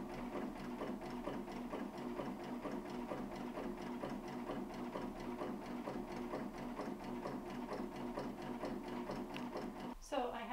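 Sewing machine stitching out an embroidery design for a fabric coffee cup sleeve, a fast continuous mechanical whirring and rapid needle clatter running steadily for about ten seconds, close-up, then stopping abruptly.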